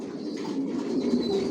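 Racer pigeons of a Johnson Long line coo in a loft, a low, steady burbling that runs continuously throughout, close and moderately loud, with faint chirps above.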